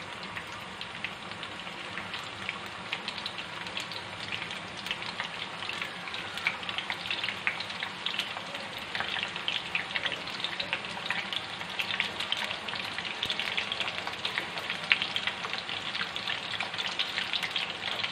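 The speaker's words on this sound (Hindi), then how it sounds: "मीडियम फ्लेम पर हम इन्हें फ्राई करेंगे" Kofta balls frying in oil over a medium flame, a steady dense sizzle and crackle with scattered pops running continuously throughout, close and fairly loud, with no talking.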